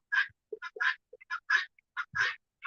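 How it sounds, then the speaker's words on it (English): Several chickens in a chicken yard cluck and squawk in short, separate bursts, close and fairly quiet, with brief gaps of silence between calls. "But enjoy listening to the chickens."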